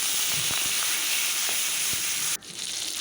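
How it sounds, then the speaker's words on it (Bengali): Crushed garlic and green chillies frying in hot oil, a steady close sizzle and hiss that suddenly drops to a quieter crackle near the end. "এখন থেতো করা রসুন আর কাঁচা লঙ্কা চেটা দিয়ে দিচ্ছি।"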